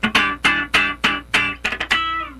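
Funk rhythm guitar turnaround: evenly spaced clean chord stabs, then a quick sixteenth-note triplet flurry near the end before a final ringing chord, close and alone.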